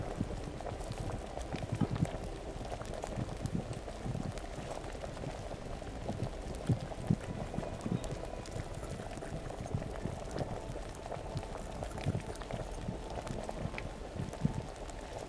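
A potion boils over a fire in the Kingdom Come Deliverance game, giving a steady low bubbling and rumbling that stays faint and continuous throughout.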